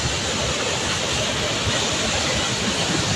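Typhoon floodwater pours through a collapsed dike in a loud, steady roaring rush of broadband noise, close and continuous with no letup.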